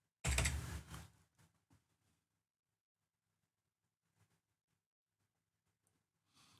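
A file name is typed on a computer keyboard in a short, close burst of rapid key clicks at the start, followed by a few faint isolated taps and near silence.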